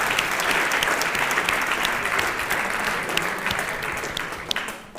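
Loud, sustained applause from an audience at a student awards ceremony held by an IUT, dense clapping throughout that eases off slightly toward the close.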